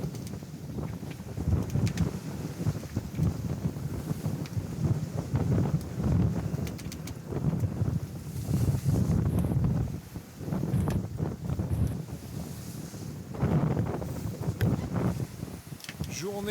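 Gusty wind of about 20 knots roaring over a sailboat in squally weather at sea, surging and easing in waves of buffeting noise, with intermittent talk over it.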